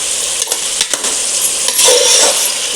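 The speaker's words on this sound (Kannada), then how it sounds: "ಇದೆಲ್ಲ ಬೇಯಿರಿ ಸಮ ಎಣ್ಣೆಯೊಳಗೆ." Beans, potato and pulses with salt fry in oil for a pulao-style biryani, giving a steady, close sizzle with a few stirring scrapes.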